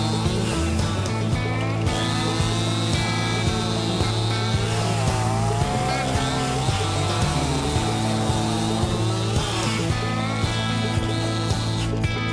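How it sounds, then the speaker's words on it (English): Stihl MS261 chainsaw cutting firewood at a bush camp in a New South Wales state forest, with a steady, loud, continuous engine drone and mechanical rattle held throughout, no talk. "grab the Stihl MS261 chainsaw and my mate's dodgy Victor chainsaw and cut some wood to keep us warm"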